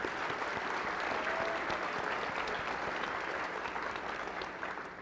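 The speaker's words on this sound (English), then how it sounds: "I wanted to offer another round of applause to all of our scholars and graduates here." A round of applause for scholars and graduates at a KCKCC graduation ceremony: steady, full crowd clapping that holds evenly for several seconds before gently tapering off at the end.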